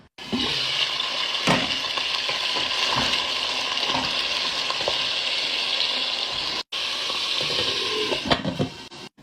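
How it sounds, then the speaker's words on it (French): Onions frying in oil in a pan: a loud, steady sizzle with stirring scrapes running through it, a brief break near the end, then the sizzle resumes, with no talking. "moi je mets des oignons, chose que tout le monde ne fait pas"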